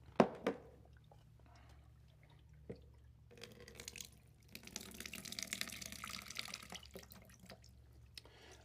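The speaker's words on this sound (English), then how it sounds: "Then, you can go back and pour the water off." Water is poured off from a container in a black and white deco bead and cube centerpiece, a splashy trickling pour after a few sharp drips and clinks, moderately close.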